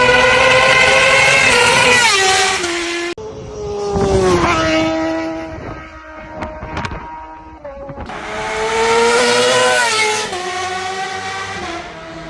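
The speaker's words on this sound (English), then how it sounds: "Let me just give you a little demonstration of what this thing sounds like." A 2007 Suzuki GSX-R 600 sport bike with a quick shifter revs hard and close, its exhaust climbing to a high scream, dropping off, blipping briefly, then screaming up again.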